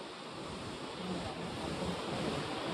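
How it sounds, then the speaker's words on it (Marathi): Steady, broadband rush of water flowing at a dam, loud and continuous throughout, with no voices. "इतकं पाणी वाहत आहे ना या साईडला"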